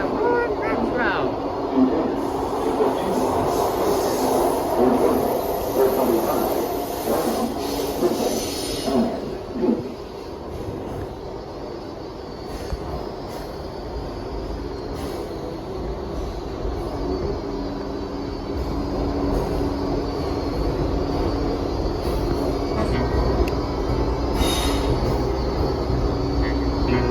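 A Baltimore Metro subway train rumbles steadily at the last stop, with a continuous mechanical roar and hiss while an announcement voice speaks over it.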